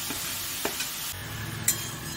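Radish greens tossed into a hot pan fry with a soft, steady sizzle and a few light stirring scrapes, close and fairly quiet, with no voices.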